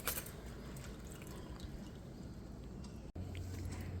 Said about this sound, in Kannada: ಅವಲಕ್ಕಿನ ಚೆನ್ನಾಗಿ 2-3 ಸಲ ವಾಶ್ ಮಾಡಿ ಇದು ಹಿಂಗೆ ಮಾಡಿಕೊಂಡು ಇದರೊಳಗೆ ಹಾಕೋದು